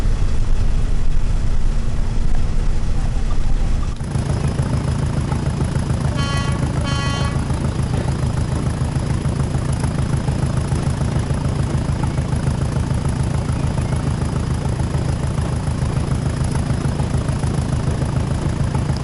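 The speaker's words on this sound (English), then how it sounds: "We're gonna go full throttle for a minute." A diesel locomotive on the West Somerset line in Train Sim World roars at full throttle with a loud, steady low-pitched drone that swells after a few seconds. A brief tonal blast sounds midway.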